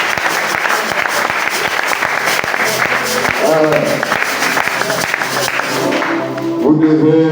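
Church congregation at a Sunday service bursting into loud, sustained applause and cheers of praise, with a voice carrying over the clapping throughout.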